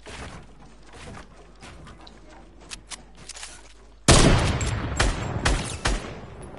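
Bursts of rapid video-game gunfire, quieter and scattered at first, then suddenly much louder and denser in the second half, with sharp repeated shots over a constant background.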